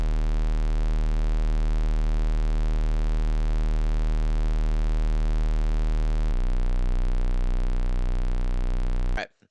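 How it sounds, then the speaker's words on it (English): A deep sustained bass line in an FL Studio beat, entering partway through over a steady spooky chord progression, loud and continuous before cutting off abruptly at the end. "Then we also added this bass for this."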